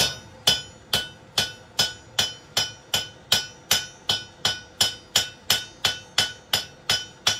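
Metal is struck repeatedly with a hammer while a boot scraper is forged, in an even, steady rhythm of about two sharp, ringing blows per second, close and clear, with no talking.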